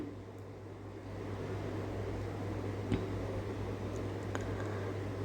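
Onions sautéing in oil with a little salt in a pan for manathakkali keerai chutney. A soft, steady sizzling hiss continues alone beneath a low kitchen hum, with a few faint clicks.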